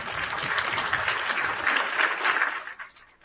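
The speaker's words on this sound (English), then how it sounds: "Can you do the little clap thing for yourself?" Canned applause effect played over a live stream, a steady burst of clapping and light cheering that holds evenly for about two and a half seconds, then tapers off into quiet.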